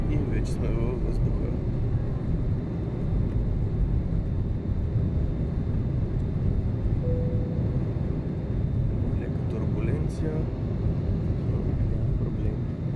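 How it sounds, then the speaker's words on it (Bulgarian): Steady, loud broadband roar of an airliner climbing just after takeoff, heard from inside the cabin, continuous rumble throughout with voices speaking over it. "честито излитане, честит първи полет."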